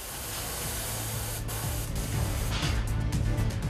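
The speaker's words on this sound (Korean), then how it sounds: "스프레이 작업인데요." Spray painting of injection-molded toy parts in a toy factory, a steady close hiss of the spray gun with short bursts and pauses and faint machinery hum underneath.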